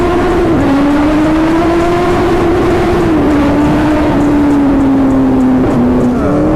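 A Kawasaki ZX-10R motorcycle engine drones loud and close at a steady pitch, with a few short dips and climbs as the gears shift.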